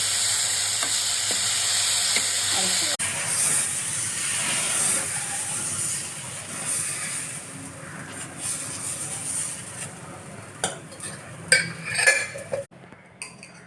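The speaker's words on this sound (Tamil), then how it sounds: "ஃபஸ்ட்டு வெங்காயத்தை போட்டு நல்லா வதக்கணும்" Onions and tomatoes sauté with salt in a pan for tomato chutney, giving a close, steady sizzle while a spoon stirs and scrapes, and clinking utensil sounds come near the end.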